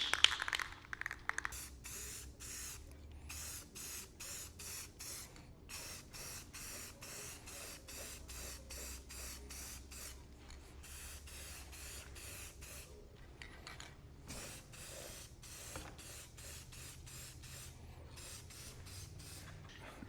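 Clear acrylic lacquer hisses from an aerosol spray can in a steady series of short and long bursts, close and moderately loud, with a low hum underneath.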